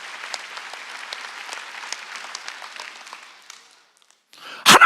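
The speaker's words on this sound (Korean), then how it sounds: "복 받은 거 믿으면 박수 쳐야 복 받았다는 거예요" A church congregation claps together during a sermon, with dense sustained applause that thins and fades to near silence before a sharp, loud burst at the very end.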